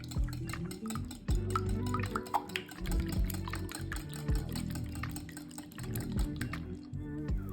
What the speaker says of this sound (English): I mix together the ingredients for the filling, eggs, milk, and salt and pepper, and then I just whisk until everything is combined